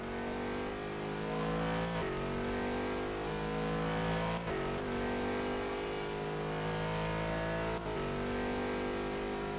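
A race car engine in a sim racing game at Bahrain howls continuously at high revs, with brief dips at gear changes and a dense, loud harmonic whine throughout.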